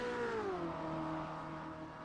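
A Porsche race car in an endurance racing video game at Le Mans screams past, its high engine pitch sliding downward as it goes by, loud and close, with no talking.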